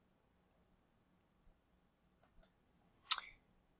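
A few quiet, sharp computer mouse clicks come in separate bursts: one faint tick, then a quick pair, then a slightly louder click near the end, all against near-silence.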